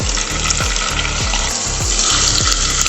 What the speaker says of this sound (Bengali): এর মধ্যেই আমি সামান্য নারকেল কুচি করে রেখেছিলাম, সেগুলো ভেজে নিচ্ছি